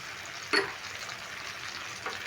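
Coriander powder and Kashmiri chili powder frying in a pan for a prawn, pumpkin and potato curry, a quiet steady hiss with one brief clatter from the spoon, with no voices.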